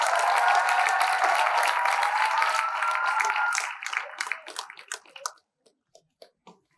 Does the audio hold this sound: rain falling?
no